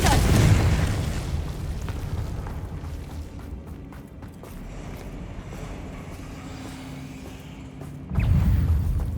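A Confringo spell blast goes off in Hogwarts Legacy, a heavy booming burst at the start, then a rumbling tail under faint game ambience, and another deep boom erupts near the end.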